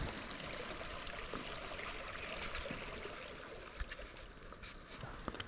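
A creek on a ranch in early May runs with a soft, steady trickling rush, faint and continuous, with a few light splashes near the end.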